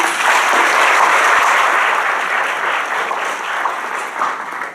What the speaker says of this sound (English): next round of applause, please